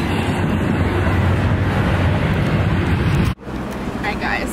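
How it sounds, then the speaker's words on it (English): A train passing on the rails, a loud, close, continuous rumble and rattle that cuts off abruptly near the end and leaves a quieter background. "But this fucking train trying to stop me from being great."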